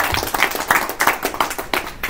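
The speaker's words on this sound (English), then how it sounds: "Give you guys a round of applause." A small group at a Toastmasters meeting claps for a couple of seconds, a brisk burst of close, uneven hand claps with no talking over it.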